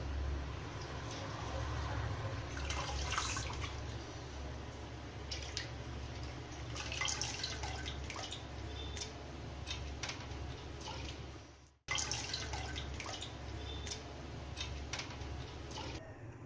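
Soft, continuous trickling and dripping of water draining from lentils through a strainer, fairly quiet and close, with a brief dropout partway through.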